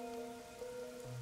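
Steady rain falling in the video game Master Detective Archives: Rain Code, a soft continuous wash under sustained tonal game music, with no voices.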